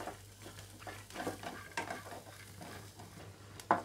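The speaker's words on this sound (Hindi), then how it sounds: "तो बस इसको चलाते हुए धीरे आँच पर हम थोड़ी देर भून लेंगे।" Dry fruits for sheer khurma roast in a pan over low heat, a faint soft rustle broken by a steady run of gentle scraping stirs and one sharper clink at the end.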